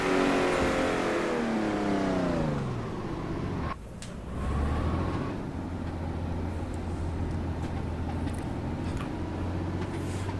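A Jaguar D-Type straight-six engine in a racing video game at Goodwood, revving high then dropping through a gear change before settling into a steady, droning run, loud and continuous.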